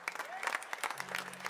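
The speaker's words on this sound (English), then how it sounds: "we'll just give him a round of applause" An audience at a college big band night of a jazz festival applauds in a brief burst of clapping, with some crowd noise and a voice in the mix.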